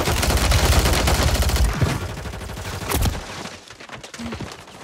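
Dense gunfire in the video game Warzone 3, a loud sustained burst of rapid shots at the start that thins into scattered nearer bursts and impacts with game noise.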